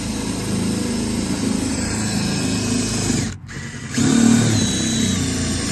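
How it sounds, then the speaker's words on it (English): A power drill whirs loudly and steadily, drilling a hole in a 1992 Subaru Sambar car door, briefly cutting out and then resuming at a slightly higher, strained pitch. "So you'll drill a big hole right there."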